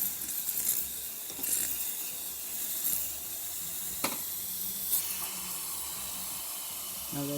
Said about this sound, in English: hot water working perfectly fine as well as the steam. Which is gonna take a little bit since we pretty much need to build some pressure in here.